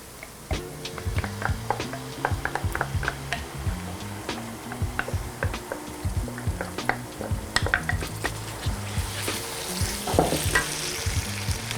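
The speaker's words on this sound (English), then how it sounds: "I'm gonna add in my mushroom mixture." A mushroom mixture sizzles in a hot pan while being stirred, with frequent sharp scrapes and clicks of the utensil against the pan over a steady frying hiss.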